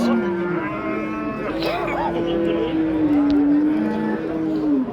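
A cow at a livestock bazaar lets out one long, loud, drawn-out moo that wavers slightly in pitch, with a murmur of market noise behind it.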